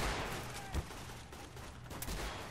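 Rapid gunfire from an NPC firefight in the game Garry's Mod, with dense overlapping bursts of shots and a couple of louder close reports, moderately loud and continuous throughout.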